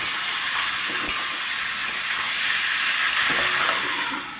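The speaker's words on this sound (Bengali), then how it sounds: "এবার নেড়ে চেড়ে ভালো করে পেঁয়াজের সাথে আলুটা মিশিয়ে দিয়ে ভেজে নেব" Potatoes and onion sizzle in a pan as they are stirred, a steady bright frying hiss with occasional soft scraping from the stirring.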